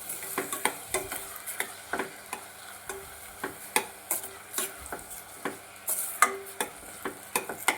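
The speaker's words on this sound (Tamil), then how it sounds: "ஆனியன் ஃபுல்லாக ஆட் பண்ணோடனே நல்லா அது வந்து கோல்டன் ப்ரௌனாக ஆகிற வரைக்கும் நல்லா வதக்கணும்" Onions sauté in a pan toward golden brown for paneer bhurji, with a spatula scraping and tapping in a steady rhythm over a constant low sizzle, close by with no voices.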